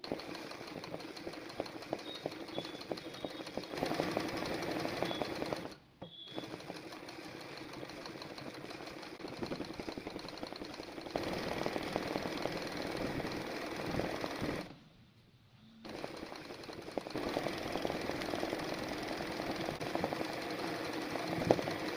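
An embroidery machine sews a running-stitch outline around a design, a steady close mechanical whirr and rapid needle chatter that stops briefly twice before resuming, with no voices.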